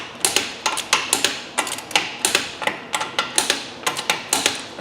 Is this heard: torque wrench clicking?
yes